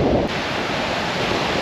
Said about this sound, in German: Ich denke mal, ihr hört auch den gewaltigen Wind hier.